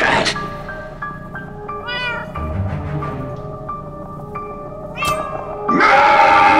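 Winslow the cat in Minecraft Story Mode meowing and yowling several times in drawn-out, wavering cries over a busy game soundtrack, ending in a burst of louder noise.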